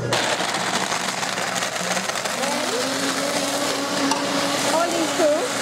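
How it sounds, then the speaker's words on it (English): An electric blender whirs steadily, crushing ice into a chocolate cocktail, a loud constant motor drone with a faint rising whine, while people talk faintly behind it. "Then you put the blender on."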